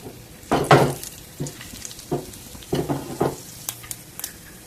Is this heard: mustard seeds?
yes